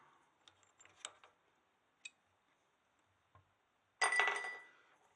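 Small parts from a Rox riser install clink into a glass container nearby, with a few light ticks and taps, then a brighter, louder rattle near the end in an otherwise quiet room.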